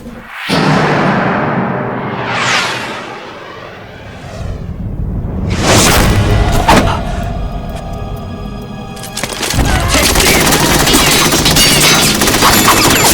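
Gunfire and explosive bursts in Metal Gear Solid 2, with loud sweeping whooshes, a heavy blast and then a sustained rattling volley near the end, close and intense.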